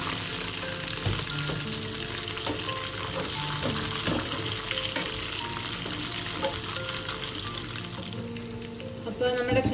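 Chicken pieces fry in hot oil with garlic for a Kerala-style chicken fry, a steady close sizzle with stirring clinks and scrapes throughout, a voice speaking faintly.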